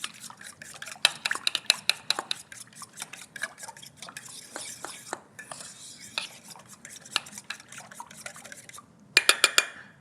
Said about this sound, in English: I'm just going to mix all those dry ingredients into those liquids